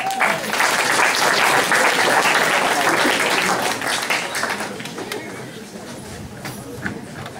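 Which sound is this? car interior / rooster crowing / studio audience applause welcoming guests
studio audience applause welcoming guests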